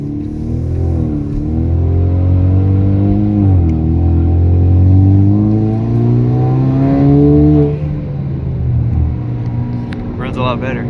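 A four-cylinder turbocharged Camaro running on E85 accelerates hard, its engine note climbing through rising harmonic sweeps before easing off, loud and close inside the car, with faint voices underneath.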